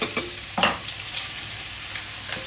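Chicken frying with garlic in a hot pan, a steady close sizzle with a few sharp crackling bursts at the start and again near the end, and no voices over it.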